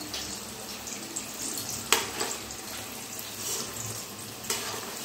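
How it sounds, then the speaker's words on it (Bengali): Potato sticks for french fries fry in hot oil over a medium flame, a steady close sizzle and hiss with a few sharp clicks and scrapes as they are gently stirred. "এবারে খুবই হালকা হাতে এই আলুগুলো নাড়াচাড়া করে ভেজে নিতে হবে।"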